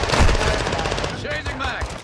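Pistol and automatic gunfire from Modern Warfare 2 multiplayer, rapid overlapping shots close up in a dense burst, with a voice talking over part of it.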